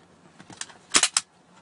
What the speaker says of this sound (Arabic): الحين بعبي سلاح ان شاء الله وبرميه.